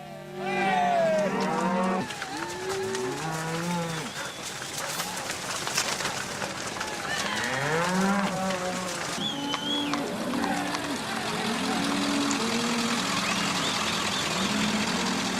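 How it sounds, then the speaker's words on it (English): Cattle being driven through a town moo repeatedly in long, low calls, several animals overlapping, with birds chirping and cooing in the background throughout. "So we bring the cows right through town and drop them over the hill on the river bottom"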